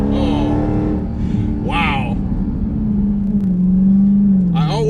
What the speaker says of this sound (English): always love the sound of a Hellcat and just listening to that blower under the hood